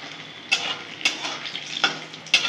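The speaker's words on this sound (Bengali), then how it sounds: "আমি লাল লাল করে বড়াগুলো ভেজে ফিরে আসছি।" Lentil fritters (bora) deep frying in hot oil, a steady soft sizzle broken by a few sharp scraping clinks of a utensil at regular intervals, close and fairly quiet with no talking.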